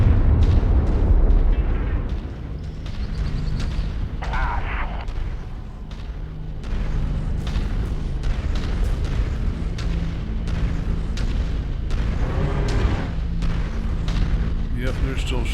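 Gunfire and explosions from a mech video game battle on Sarna: continuous rumbling booms and sharp bursts, loud and dense throughout, with someone talking over the fighting.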